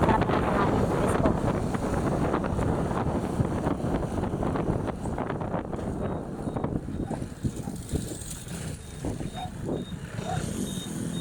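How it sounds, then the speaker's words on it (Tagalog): Wind buffeting a microphone during a motorcycle ride, a loud, continuous roaring rush that eases slightly toward the end, with faint speech mixed in. "Napakasarap naman sa hangin, presko."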